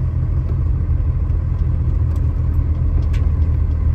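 First-generation truck engine idling steadily, a loud, continuous low rumble with a constant drone and no breaks, close by and alone with no talking.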